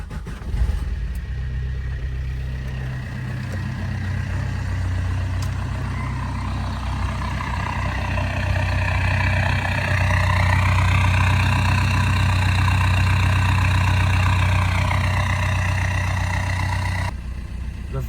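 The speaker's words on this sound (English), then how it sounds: "The van has started" A Vauxhall Combo 1.3 CDTI diesel van engine catches and settles into a steady, close idle, with a low constant rumble and a faint rising whine running through the middle.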